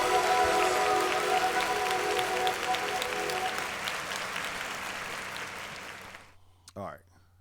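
An audience at a live show claps in a dense burst alongside a sustained musical tone; the applause thins and fades over about six seconds, ending in near silence with a brief low sound at the end.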